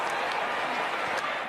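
A huge stadium crowd at an NFL playoff game between the Dallas Cowboys and Philadelphia Eagles applauds and roars in a dense, continuous wall of clapping and noise.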